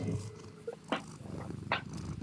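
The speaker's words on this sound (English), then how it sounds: "Milo sure is a complainy cat." Milo, a Maine Coon cat, gives two short complaining cries about a second apart over a low, quiet rumble.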